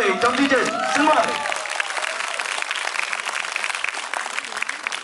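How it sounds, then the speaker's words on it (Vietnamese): A film premiere audience breaks into applause, a dense wash of clapping that carries on steadily throughout, with a voice speaking over the opening moments. "ngay bây giờ, một tràng pháo tay"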